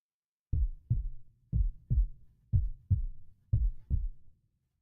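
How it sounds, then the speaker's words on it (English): A heartbeat sound effect plays as four clear lub-dub pairs, deep and thumping at a steady pace, alone without talk. "They hearts beating out their chest."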